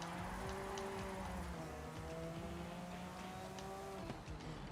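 Racing car from an old Le Mans era driven in Forza Horizon 5, engine droning steadily with rising and falling pitch and brief tire squeal through fast turns, loud and continuous with no talking.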